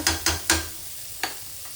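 Onions fried in a pan with a little salt being mixed in, heard as three quick stirring scrapes close together near the start, then a fainter one after a pause, over a low steady sizzle.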